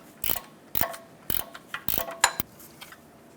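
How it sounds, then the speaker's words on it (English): A gear wrench ratchets on a nut on the engine mount bushing stud of a Chevy S10, giving several short bursts of close, crisp clicking in an uneven rhythm. "Use a gear wrench to tighten up this nut."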